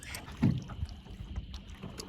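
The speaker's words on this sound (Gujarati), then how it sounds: "આપણે બોટ હાલે છે ને એને આપણે મજા લેવી છીએ" A small boat moves across Mandan Lake near Rajpipla, its low hull and water noise steady and close, with a brief louder gurgle early on and light wind against the microphone.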